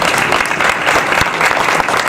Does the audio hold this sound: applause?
yes